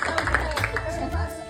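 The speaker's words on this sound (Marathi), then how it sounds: "छान टाळ्या वाजवून एकदा" Brief round of hand clapping by a small group of people at a family ceremony honouring grandparents, irregular claps mixed with voices close by.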